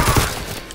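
A rapid machine-gun burst in the World War II shooter Call of Duty: WWII, loud and dense, filling the whole short moment.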